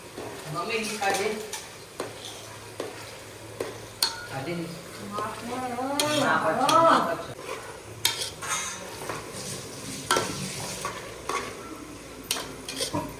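Garlic and green onion frying in a pan with steady stirring, spoon scrapes and occasional clinks of utensils against the pan, a low sizzle running underneath, with bits of talk in the background.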